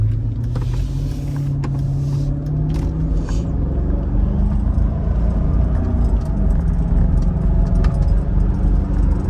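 A 2003 Mercedes SL500 with coilover suspension, windows up, accelerating on the road: a steady, loud engine drone heard from inside the cabin, with pitch rising then settling into a continuous rumble.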